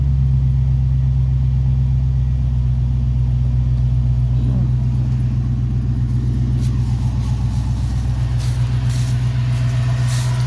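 A 1959 Ford F100 with an LS swapped V8 idles smoothly and loudly up close, holding a steady deep rumble with a faint rhythmic pulse throughout, with no talking.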